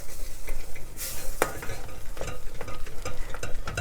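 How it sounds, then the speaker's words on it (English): Flour mixture is stirred into cream puff dough in a hot pan, giving repeated scraping and thick sloshing strokes over a faint sizzle, close and fairly loud. "I'm going to add my flour mixture, and I am going to stir it up"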